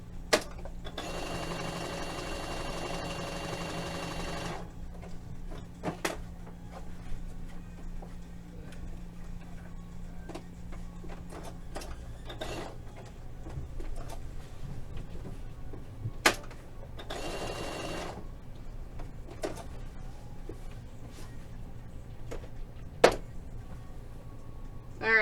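A sewing machine stitches fabric applique for a GameCube logo in one steady whirring run at the start, then goes quiet apart from scattered handling clicks and one more short burst of stitching.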